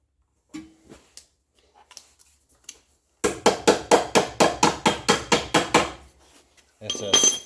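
A custom hammering device rings out in a fast run of about a dozen sharp metallic strikes during rear strut replacement on a 2007 Honda CR-V, loud and close, after a few quieter clanks and taps.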